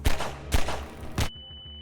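Explosive barrels blow up in Half-Life 2, three booming blasts about half a second apart, each a loud, close burst with a short rumbling tail, followed by a thin steady tone.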